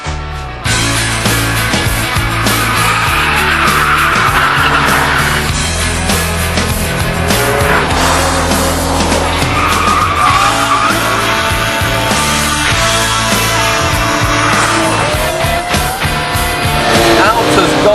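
A Porsche 911 GT3 sports car engine revs hard and steadily at close range, with tires squealing at moments and a voice talking over parts of it.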